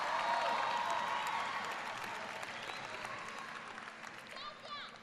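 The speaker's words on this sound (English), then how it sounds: "Please give them a round of applause." Audience applause at a high school graduation ceremony honoring phlebotomy technician certificate earners, a broad sustained wash of clapping that starts loud and slowly tapers over several seconds, with faint crowd murmur and a few cheers near the end.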